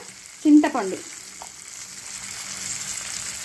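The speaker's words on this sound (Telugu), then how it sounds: "మనం ఇంగు పోపు వేసాం కదా, ఈ టైంలో కొంచెం పసుపు వేసుకోవాలండి" A tempering of asafoetida and turmeric sizzles in hot oil for a pepper chutney, a soft continuous hiss after a short tonal sound near the start.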